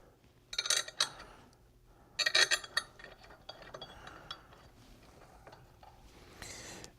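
Bolts are set and tightened onto a Vemag four-point bearing, producing a few quick metallic clinks and ratchet-like clicks, close and fairly quiet, with short bursts of activity separated by pauses.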